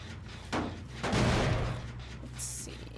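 An explosion in a video game: a sharp blast, then a heavier, longer rumbling boom about half a second later, both rising over a steady background hum.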